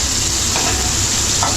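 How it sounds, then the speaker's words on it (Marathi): Tomatoes fry in hot oil in a home kitchen, giving a steady, loud, close sizzle that runs the whole time with no break. "तेलामध्ये टोमॅटो एकदम चांगल्या प्रकारे फ्राय सुद्धा झाले"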